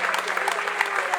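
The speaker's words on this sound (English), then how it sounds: "Je crois qu'on peut l'applaudir très très fort, le Jules." At a chessboxing event, an audience applauds in a dense, steady patter of clapping that fills the short moment.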